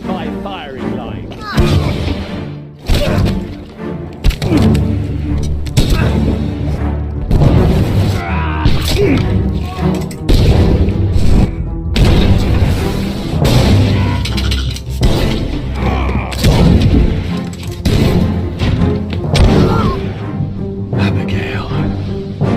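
Firing-squad gunfire in the game Return of the Obra Dinn: repeated heavy booming shots and thuds in an irregular volley, loud and close, with voices speaking between and over them.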